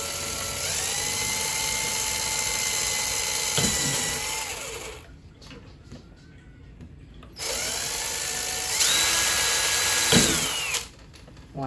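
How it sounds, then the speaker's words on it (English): A power drill pre-drills a hole into a wooden bird perch: two long whining runs with a steady pitch and a pause between them, each dropping off as the trigger is released, loud and close. "And I will pre-drill my hole"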